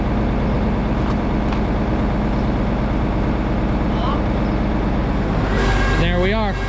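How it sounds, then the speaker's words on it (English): A John Deere 7520 tractor runs with its PTO spinning on an M&W dyno, a loud continuous diesel rumble and drone, with a voice speaking over it near the end. "He's going to engage the"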